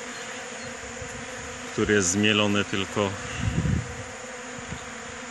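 Honeybees buzz around a feeder of ground, natural pollen in early March, a steady insect drone running throughout with someone speaking Polish briefly over it.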